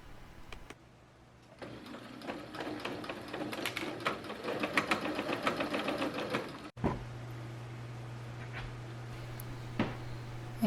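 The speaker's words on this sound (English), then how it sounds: "I am sewing up those straps in long tubes. And sewing up the bodice lining for the dress." A domestic sewing machine stitches dress straps in long tubes and a bodice lining, a quiet rapid clattering run of a few seconds set between softer handling noises and a low steady hum.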